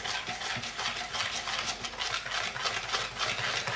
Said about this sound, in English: whisk the heck out of it